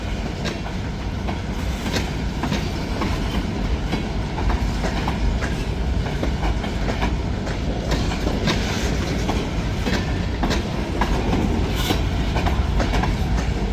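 A whole freight train rolls past on the rails, a loud, continuous rumble with rhythmic clickety-clack of wheels over rail joints running throughout, close and unbroken.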